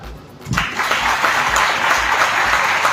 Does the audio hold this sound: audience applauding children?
yes